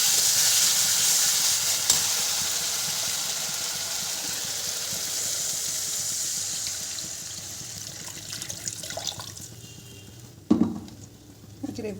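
Water poured into hot oil for a besan omelette gravy, giving a steady, loud broadband sizzle and hiss that slowly fades, ending with a few clinks and splashes near the close.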